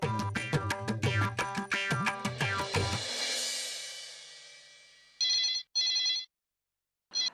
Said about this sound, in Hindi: मैं सोच रहा हूँ बच्चन पांडे को फोन लगाते हैं